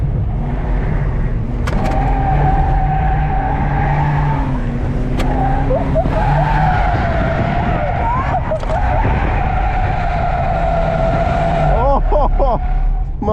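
A Volvo 740 slides sideways through a corner while drifting, with loud tire skidding and squeal over a steady engine roar, heard continuously from inside the car, plus a few brief shouts.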